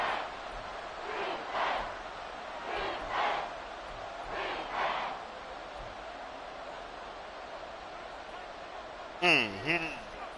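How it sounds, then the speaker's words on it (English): A football stadium crowd roars during a Browns vs Saints game, a broad, sustained rumble of many voices that surges in waves, with an announcer talking over it. "This crowd turning up the decibel level"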